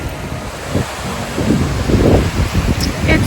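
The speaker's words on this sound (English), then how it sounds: "Oh, gosh, look at this beach." Waves wash onto a sandy Lake Michigan beach in autumn, surging louder partway through amid gusty wind noise on the microphone, while a voice speaks briefly.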